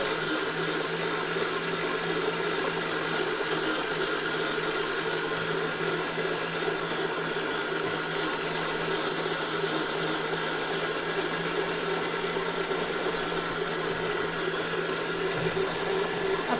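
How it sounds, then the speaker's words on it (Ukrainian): An electric mixer whips butter for the cream of a Kyiv cake, a constant high whirring hum that holds unbroken at close range with no talking. "Зараз трошки масло зіб'ється"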